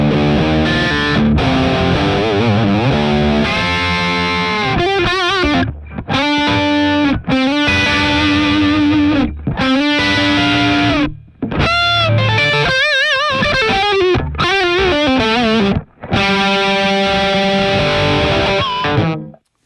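Electric guitar played through the amp simulation of a Mooer GE200 multi-effects unit, a loud, continuous distorted tone with sustained chords and single-note lines, a few short pauses between phrases, and no voices.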